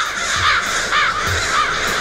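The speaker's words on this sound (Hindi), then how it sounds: "अरे ये तो ब्लैक क्रोस है।" Crows cawing in a dramatic film scene, several loud harsh caws overlapping in a steady rhythm, close and continuous across the short stretch.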